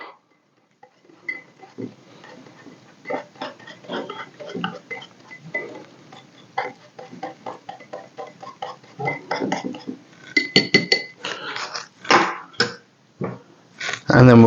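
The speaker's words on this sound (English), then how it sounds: "I'll just whisk that all together." A whisk clinks and scrapes against a bowl while fresh chives are beaten into a sauce, sounding as an uneven run of small metallic taps and strokes that gets louder and busier toward the end.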